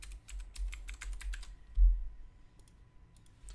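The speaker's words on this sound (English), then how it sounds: "and write a password" A password being typed on a computer keyboard during an online sign-up: a quick, close run of light keystrokes, then a pause and a few scattered clicks.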